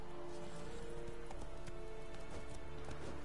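Roach, Geralt's horse in The Witcher 3: Wild Hunt, gallops with steady, rhythmic clip-clop hoofbeats at a constant moderate level, layered with in-game ambience and no talking.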